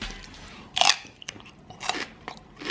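Crunchy homemade peanut butter bitten and chewed close up, with three crisp crunching bursts spaced about a second apart over a quiet background.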